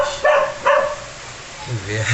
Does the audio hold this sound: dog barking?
yes